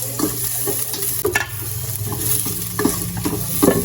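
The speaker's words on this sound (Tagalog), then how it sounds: "Dito naman sa aking kaserola, nagisa lang ako ng bawang, sibuyas at luya" Garlic, onion and ginger sauté in a casserole pot, giving a steady close sizzle broken by a few scraping stirs and clinks of the spoon, with no voices.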